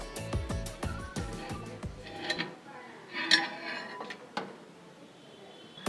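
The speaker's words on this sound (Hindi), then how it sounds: "अब इसे हम स्टॉप कर देंगे। ओवन को खोल लेंगे और चेक कर लेंगे।" A microwave convection oven being stopped and opened after baking pizza: a rapid run of clicks and light metallic clatter, then scattered clunks, a latch-like snap and a few soft knocks.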